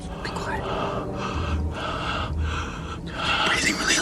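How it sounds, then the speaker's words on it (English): Loud nose breathing comes as repeated heavy, hissing breaths close to the listener, in a steady rhythm of short bursts. "You're doing loud nose breathing."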